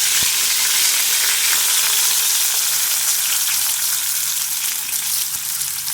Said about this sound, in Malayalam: ചൂടായി നമുക്ക് കരിയാപ്പല ഇടാം